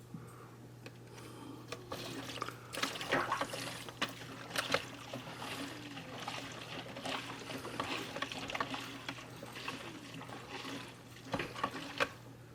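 Water trickles and gurgles through tubing as a Vevor aquarium canister filter is primed, faint irregular splashes with intermittent clicks and knocks over a low steady hum.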